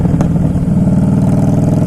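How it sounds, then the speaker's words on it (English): A 2011 Harley-Davidson Fat Boy Low motorcycle engine during a downshift on a test ride, a loud, close, throaty rumble with no pause. "I downshifted instead of upshifting."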